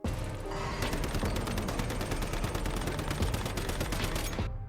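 Rapid, loud automatic gunfire blasts at a boss in the video game Once Human, a continuous fast stream of shots lasting several seconds before stopping abruptly.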